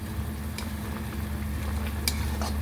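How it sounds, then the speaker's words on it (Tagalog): Tinola chicken soup with papaya and malunggay leaves, just seasoned with fish sauce, gets stirred in a pot: a steady low simmering hum with a few faint scrapes and clinks of the spoon. "Haluin ng kaunti."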